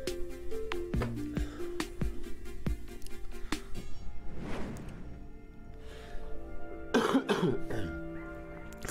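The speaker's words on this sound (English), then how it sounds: "Excuse my coughing." Several short coughs and throat clearings come one after another at close range, sounding over soft, steady background music from a video game.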